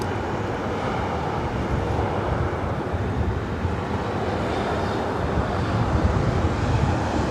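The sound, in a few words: aircraft at LAX airport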